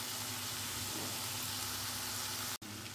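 Chicken curry sautéing in a pan, a dense continuous sizzle and hiss that holds steady throughout, with a brief cut near the end.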